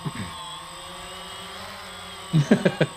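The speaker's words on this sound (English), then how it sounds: "Drone pilot David Ian Jones uses a drone to move his sheep at the Wrexham farm" A drone hovers over a farm in Wrexham, Wales, herding sheep, its steady whirring buzz continuous and fairly close, with a few sheep bleats breaking in near the end.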